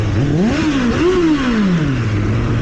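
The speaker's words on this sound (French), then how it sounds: "un beau petit 4 cylindres qui chante bien" A four-cylinder motorcycle engine revs up twice, its pitch climbing and falling smoothly, then easing back to a steady idle, loud and close.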